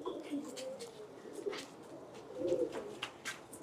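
A pair of pigeons coos in low, soft, throaty phrases that rise and fall, close by and fairly quiet, with no talking.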